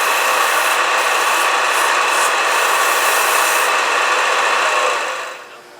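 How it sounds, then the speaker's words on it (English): A wooden bottle stopper spins on a lathe while sandpaper rubs against it, a steady, close, dry hiss that holds for several seconds before easing off at the end. "Well, I finished going through all the grits and finishing all the sanding."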